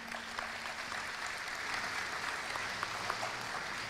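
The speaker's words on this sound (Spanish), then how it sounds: "Aplausos para ellos." A university theatre audience at an inauguration claps for invited guests, a sustained moderate patter of many hands with a faint low hum beneath and no talking.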